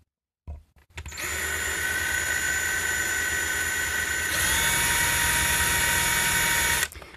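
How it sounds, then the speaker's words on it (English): A power drill whines loudly while drilling out rivets on a dimmer module, starting up after a brief pause, holding a steady high pitch, then shifting slightly higher in tone before stopping abruptly. "let's see if we can drill these rivets out"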